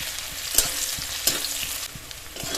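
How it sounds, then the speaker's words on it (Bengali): Garlic paste fries in hot oil with browned onions, a continuous close sizzle broken by a few sharp clinks of a spoon stirring against the pan. "রসুনটা দিয়ে 1 মিনিট ভেজে নিয়েছি।"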